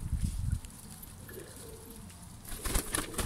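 Newly acquired pet pigeons coo in low, soft bursts near the start and again toward the end, close by, with quieter rustling and faint background sounds between the calls.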